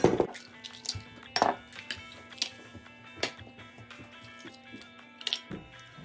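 Four eggs are cracked into a bowl in a home kitchen, giving sharp, scattered clinks and taps of shell against the bowl's rim amid quiet handling noises, close and fairly soft.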